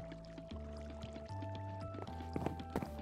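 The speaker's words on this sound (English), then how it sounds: "I'll turn the water on so all the platforms are flooded" Water pours over flooded platforms in Minecraft, a steady rushing flow that lasts the whole stretch under sustained game-music tones.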